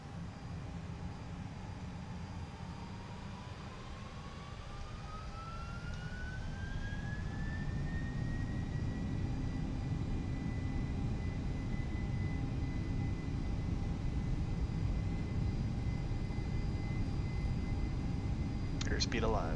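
Simulated airliner jet engines, a Boeing 767 freighter in X-Plane 11, spool up for takeoff. A rising turbine whine climbs and then holds steady over a loud, constant roar that swells and stays strong throughout.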